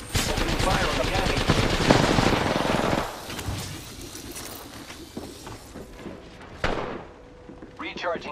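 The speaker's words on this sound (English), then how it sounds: "Opening fire on the enemy." Rapid automatic gunfire rattles in an Apex Legends match, dense bursts for several seconds, then scattered shots and thuds, with in-game character voice lines over the action.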